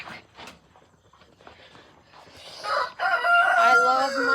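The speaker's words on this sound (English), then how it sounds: "I love my grandma's chickens." Backyard chickens clucking softly at first, then a rooster crowing loudly and close in a long drawn-out call over the hens.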